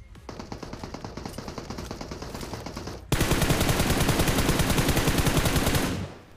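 Sustained automatic gunfire in the mobile game BGMI: a steady rattle of shots that jumps to a louder, closer and denser burst halfway through, then cuts off.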